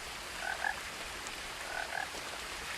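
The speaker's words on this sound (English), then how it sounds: "we hear little froggies." Frogs croak in What Remains of Edith Finch, two short paired bursts of croaking over a faint steady ambient hiss, fairly quiet and with no talking.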